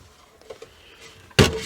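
A door on a 2003 Roadtrek 190 camper van is pulled open: a few faint clicks and handling taps, then a short, loud scraping clunk as it swings.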